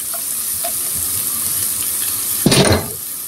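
Onion frying in hot oil in a pan, browning steadily: a soft, continuous sizzle with faint stirring scrapes, then a brief louder burst of crackling near the end, heard alone without talk.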